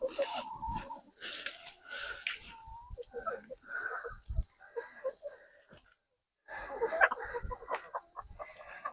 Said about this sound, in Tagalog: Tuwang-tuwang ating mga alagang manok sa pagkain po ng mga dahon ng bunga-bunga.